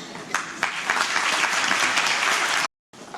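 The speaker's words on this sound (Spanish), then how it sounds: "prego un aplaudiment per rebre les nostres presentadores" An audience at a secondary-school graduation ceremony claps to welcome the student presenters, loud steady applause from a full hall with a few sharper claps, cutting off abruptly near the end.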